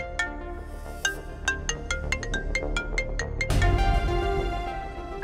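A mobile phone ringtone plays indoors as a bright, repeating pattern of tones, ringing clearly in a quiet room with no voices.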